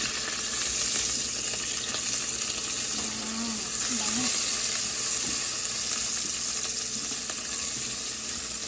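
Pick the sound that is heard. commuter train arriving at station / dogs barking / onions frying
onions frying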